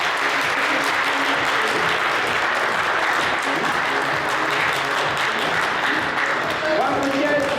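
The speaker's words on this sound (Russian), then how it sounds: "давайте громко аплодируем" Sustained applause from an audience at an award ceremony at a youth volunteer forum, a dense continuous wash of clapping filling the hall at steady loudness throughout.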